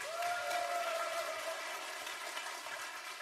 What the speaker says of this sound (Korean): 다시 한번 보컬리스트 김상조 군에게 박수를 보내주십시오.